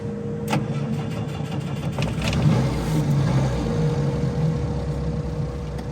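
Volvo P1900 engine droning while driving on the highway, a steady mid-pitched hum with road rumble and a slight rise in loudness midway, strained and working hard.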